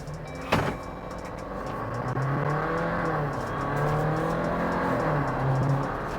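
Jeep Wrangler 4xe accelerating down the road, a rising engine and drivetrain whine that climbs in pitch across the clip, with a brief sharp transient near the start, fairly close, no talking.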